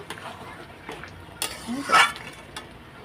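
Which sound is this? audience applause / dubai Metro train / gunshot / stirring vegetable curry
stirring vegetable curry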